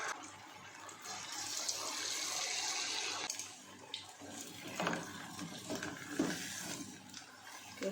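Pakora batter made from potatoes and flour dropped into hot frying oil, giving a steady, fairly loud hiss and crackle that rises in the first seconds, then settles into gentler sputtering with a few sharper pops.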